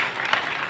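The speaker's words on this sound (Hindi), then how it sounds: "जरा तालियां बजाकर सुधीर जी का स्वागत करें।" An audience at a municipal civic welcome event for a minister in Neemuch claps in a brief, steady burst of applause, dense and moderately loud, without pauses.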